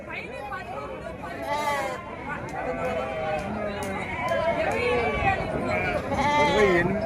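Sheep bleating at a busy sheep market in Gudur, many animals calling near and far in overlapping wavering bleats over a constant hubbub of crowd chatter and trader voices.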